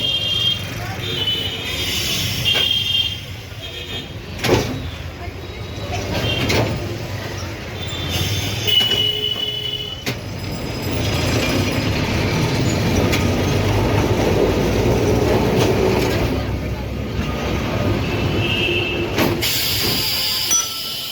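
A tram rumbles along a Kolkata street line near Presidency University and College Street, with clattering wheels, squeals and occasional sharp knocks over steady traffic noise, and people talking nearby.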